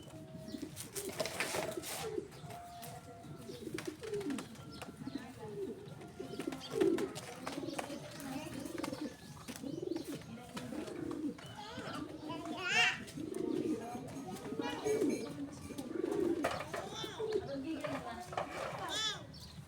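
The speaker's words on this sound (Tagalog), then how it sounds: "Viewing na natin mga kalapatids." Pigeons coo in soft, repeated throaty bursts at moderate distance, a few birds overlapping, with faint background rustle.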